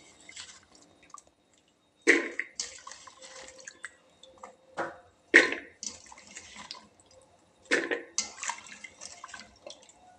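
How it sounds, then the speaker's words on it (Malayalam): Chopped raw papaya pieces being washed in water in a home kitchen, with several close bursts of splashing, sloshing and dripping separated by quiet gaps. "നമ്മുടെ ഓമക്കായൊക്കെ നുറുക്കി കഴുകി കുക്കറിലാക്കണം"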